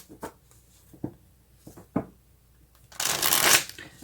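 Tarot cards shuffled by hand: a few soft taps and slides at first, then a dense riffling burst near the end, close and clear, with no talking.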